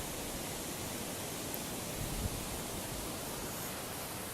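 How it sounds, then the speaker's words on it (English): A river flows below an outdoor walking path during a sleet storm, a loud, steady broadband rush with no breaks and no voices. "The river down below."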